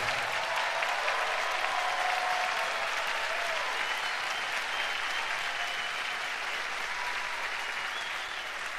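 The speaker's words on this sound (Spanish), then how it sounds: "a quien quiero que reciban con un aplauso, por favor" A live Christian worship concert crowd applauds to welcome a female singer onstage. The clapping is dense and continuous, heard from within the audience, and holds steady for the full stretch before tapering slightly at the end.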